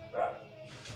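A dog barks once or twice, close by and fairly loud, against construction noise from house builders nearby, in a home kitchen.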